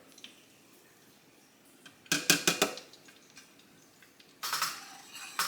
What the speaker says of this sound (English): Now we're going to add the flour to it.